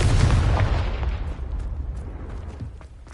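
A Confringo blasting spell explodes in Hogwarts Legacy, a loud booming blast that decays over a few seconds, with faint crackling debris afterward.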